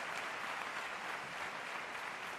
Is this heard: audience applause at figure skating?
yes